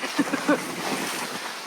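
Wind buffets a microphone outdoors over open water off Tilloo Cay, a steady rushing roar with a few faint voice fragments near the start.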